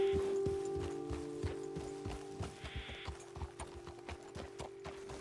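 Horse hooves clip-clopping at a walk in Red Dead Redemption 2, soft, irregular thuds under a low ambient hum, faint and fairly close.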